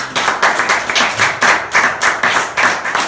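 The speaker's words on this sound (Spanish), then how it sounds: "Denle un aplauso a Cristo" A church congregation claps in bursts, the applause swelling in regular rhythmic waves, close and loud, with no voices over it.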